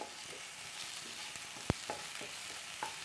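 Small capsicum pieces and softened onion sizzle steadily in a hot pan, with soft stirring scrapes and one sharp knock partway through.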